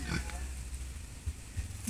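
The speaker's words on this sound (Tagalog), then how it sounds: "Ayan baboy niya oh." A pig on a rural property grunts and oinks in a few short, close bursts at the start and end, over a constant low background hum.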